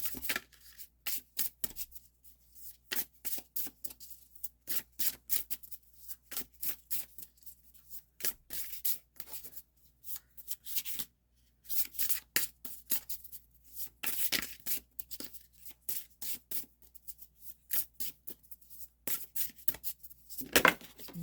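Drum oracle cards being shuffled by hand, quick repeated riffling bursts in uneven clusters with short pauses between, close and crisp with no talking over them.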